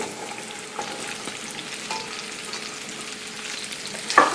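Sliced onions land in a pan already hot with oil and chili flakes for vegetarian penne, giving a soft continuous sizzle with a few light scrapes and stirring knocks, close and moderately quiet.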